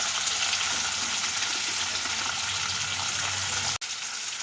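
Potato and bitter gourd hit hot oil tempered with mustard seeds, giving a loud, steady sizzle and crackle that runs unbroken, with a brief sharp drop near the end.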